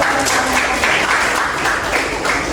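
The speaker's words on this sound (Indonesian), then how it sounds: "Tepuk tangan dulu." Loud, dense hand clapping from a classroom audience during a university pharmacy teaching assessment session, a continuous wash of claps filling the short moment.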